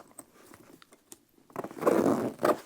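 Zippers on a camera bag being worked open, first as a few short scattered rasps and ticks, then a longer and louder continuous zip run near the end, heard close up with no talking.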